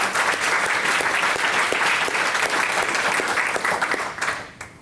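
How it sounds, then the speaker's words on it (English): Audience applause at a university institute's strategic plan launch, a steady, full round of clapping that thins and fades near the end. "So there was applause, Pam."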